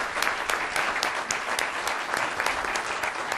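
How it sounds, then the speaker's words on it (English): A conference audience applauds two distinguished speakers at the close of a discussion on Brazil-US relations, a steady dense wash of clapping from many hands that carries on without pause and with no voices over it. "please let's give a round of applause to both of our distinguished speakers"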